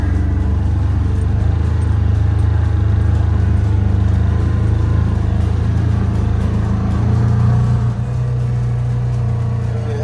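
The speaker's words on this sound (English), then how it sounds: "You can hear the motor working, nothing's putting any pressure on it." A Polaris Ranger UTV engine works in low range while towing a Yamaha Grizzly uphill through a gully, a loud, close, steady drone with a low rumbling hum that holds for the whole stretch.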